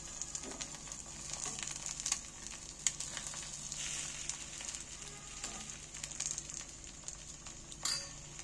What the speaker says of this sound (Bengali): ডিমটা আমি এর মধ্যে দিয়ে দিচ্ছি খানিকটা, দিয়ে এটা গোটাটা চালিয়ে দিচ্ছি